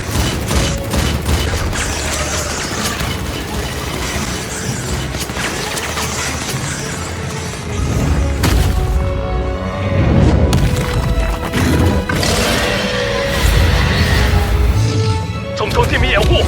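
Sustained animated-battle barrage of gunfire and heavy explosions against an eight-metre rust-mist-emitting mutant creature, dense and loud throughout with booming surges near the end, over a musical score.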